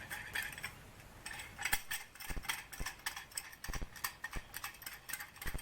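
A C-clamp is turned to press a brake caliper piston back during a brake job, giving a run of close metallic clicks and ratcheting creaks with short pauses between turns.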